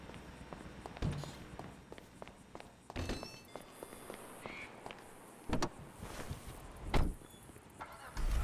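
A car in Grand Theft Auto V with door clunks and footsteps, then the engine turns over and idles with sharp mechanical knocks and thuds throughout.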